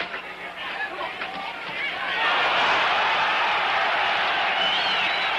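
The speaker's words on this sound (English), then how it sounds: "The crowd will yell every time Floyd even seems to land." A boxing crowd at a 1968 heavyweight bout in Stockholm, a far-off murmur that swells into a broad, sustained roar of yelling and cheering, filling the hall loudly for several seconds.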